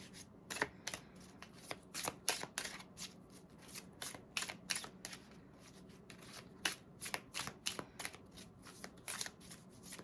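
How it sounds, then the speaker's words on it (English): A deck of cards is shuffled repeatedly, a run of quick papery riffles and flicks in an uneven rhythm, close and fairly quiet, with no voices. "We're going to pull some cards from the Rebel deck here and see what it has to say."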